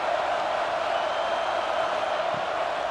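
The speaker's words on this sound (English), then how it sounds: "This crowd bringing the energy and noise early." Large stadium crowd at a professional football game, a steady, dense roar of massed voices with no breaks, fairly loud and filling the whole stretch.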